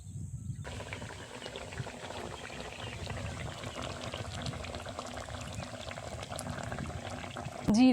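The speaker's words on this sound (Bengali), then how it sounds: "ঝোল ফুটে গেছে, লাউও সেদ্ধ হয়ে গেছে," Bottle gourd and hilsa fish curry bubbling in a pot, a steady, dense simmering hiss and gurgle that runs evenly throughout at close range, with no voices.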